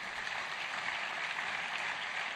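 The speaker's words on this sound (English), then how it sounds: "Give a resounding applause for Chris Liu" An audience at a 2023 tech fair breaks into steady, dense applause for keynote speaker Chris Liu, a continuous wash of many hands clapping at moderate distance with no voices over it.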